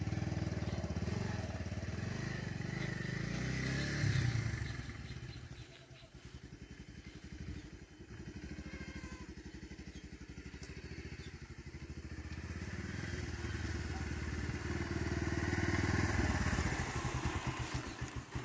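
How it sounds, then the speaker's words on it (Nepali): A motorcycle engine chugs and revs unevenly nearby as the bike is turned around, its rumble swelling and easing throughout without a break. "बाइक फर्काउँदैछ।"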